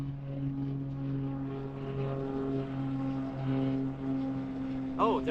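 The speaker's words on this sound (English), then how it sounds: "there's an airplane lifting off right now," A small propeller plane drones steadily in the distance while lifting off in Puerto Rico, its engine tone holding even and then rising slightly near the end.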